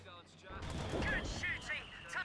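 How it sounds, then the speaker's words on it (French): Mortar and artillery fire in the video game Company of Heroes 2, British forces under bombardment, with dull booming blasts and rumbling impacts layered over ongoing battle noise, fairly loud throughout. "Je sais pas où est-ce qu'il est, leur putain de mortier, mais... il me casse bien les bons becs depuis tout à l'heure."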